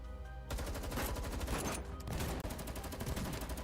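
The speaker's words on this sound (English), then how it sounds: "Gunfire explodes in the yard." Dense video-game gunfire in Girls Frontline 2, with rapid automatic bursts and overlapping shots in a yard firefight, loud and continuous for several seconds.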